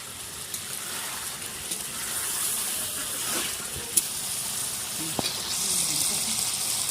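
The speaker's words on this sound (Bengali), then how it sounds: "মাংস সিদ্ধ হয়ে গেছে, শেষবারের মতন জল দিয়ে দিব।" Water poured into village-style chicken curry (murgir lal jhol) as it cooks, producing a soft rushing sizzle with a few small knocks, fairly quiet and steady, with no speech.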